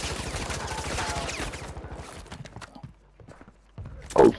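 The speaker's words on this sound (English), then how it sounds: "somebody else shooting at me" Rapid bursts of automatic gunfire rattle in a Call of Duty match, a dense stream of shots that thins out into scattered distant pops before a louder crack at the end.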